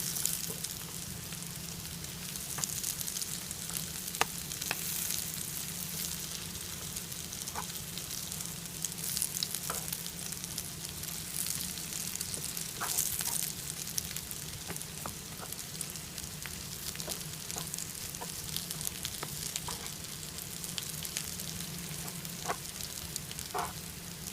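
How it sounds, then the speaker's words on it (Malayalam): Leftover cooked chicken pieces fry in a pan with a soft, steady crackling sizzle dotted with small pops and spits throughout, fairly faint and without voices. "ഇനി ഇതിനെ നമുക്ക് തിരിച്ചിടാം ഇതിന് വീണ്ടും നമുക്ക് രണ്ട് മൂന്ന് മിനിറ്റ് കൂടെ ഒന്ന് ഫ്രൈ ചെയ്യാം"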